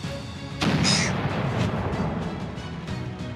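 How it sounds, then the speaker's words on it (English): A cannon in a VR game fires at a boat from a pier, making one sharp boom followed by a long, fading rumble at moderate loudness. "We were just on the pier firing cannons at a boat like pirates."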